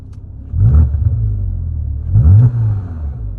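Engine of a 2007 Porsche Cayman revving nearby in two short throttle blips, each a rising, falling rumble over a steady idle, with no talking.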